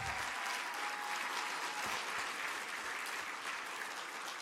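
An indoor audience at a technology summit in Grand Bahama applauds in a steady, sustained burst of clapping, fairly faint and distant throughout.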